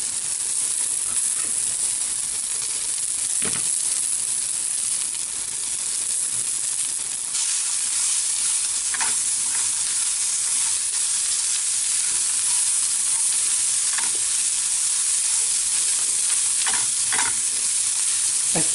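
Bell pepper fries in a pan alongside potatoes for an egg and ham dish, giving a steady loud sizzle and hiss throughout, broken by occasional scraping stirs, with no talking.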